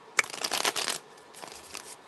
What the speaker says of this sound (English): I can just like shuffle and shuffle and shuffle and shuffle.